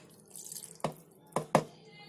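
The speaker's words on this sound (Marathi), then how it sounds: "आणि थोडंसं पाणी ओतायचं" Three short splashy bursts of water poured into blended tomato paste, like small pours into a container, spaced apart over a quiet background.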